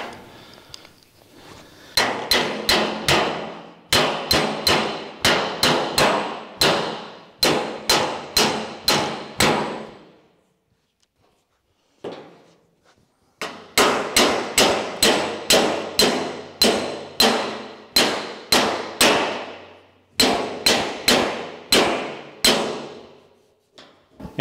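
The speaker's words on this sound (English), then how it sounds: "we can just use the planishing hammer again, tap, tap, tap, tap, tap, tap on the outside" A planishing hammer taps rapidly on a steel roof panel of a 1970 Holden HG ute during rust repair, two long bursts of close, sharp, evenly spaced metallic strikes separated by a brief pause, no talk.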